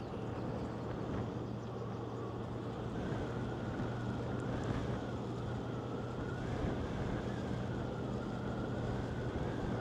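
Strong wind buffets the microphone from inside a moving car driving past the dunes at Maspalomas, Gran Canaria, a steady loud rumble and roar with a low engine hum running unbroken throughout, no voices.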